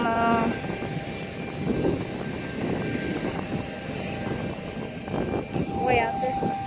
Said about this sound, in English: There's another plane out there.